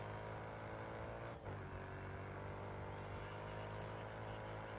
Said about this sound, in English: It's got a good engine note.